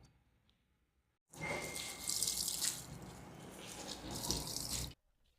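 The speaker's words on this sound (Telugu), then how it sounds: "ఇప్పుడు ఇందులోని నీళ్ళన్నీ పిండుకుందాం" Water is wrung from ground sweet corn through a thin cloth, heard as a sudden close trickle and splash that streams steadily for several seconds before stopping, with no talk.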